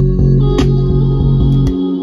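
A snare drum hits several times within a looping Jersey club beat made in Mixcraft 9, with sharp cracks landing over a dense, loud bass and synth loop.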